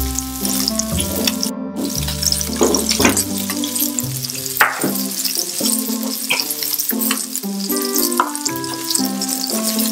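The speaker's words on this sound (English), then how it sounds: "So we're gonna turn the fish over." Fish fries in a pan and is flipped over, a continuous close sizzle with scraping and clinks from turning, under a layer of background music.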